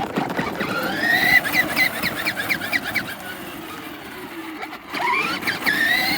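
A kids' Yamaha 700R ride-on quad, upgraded to a 24 volt power drill battery, drives along with a steady electric motor whine that rises and falls in pitch. It dips briefly and then picks back up, with no talking.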